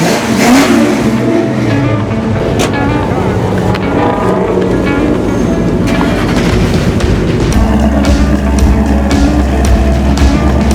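A Ford Mustang rally car engine revs and accelerates on the road, loud and close with rushing wind, the engine note climbing then settling into a steady drone.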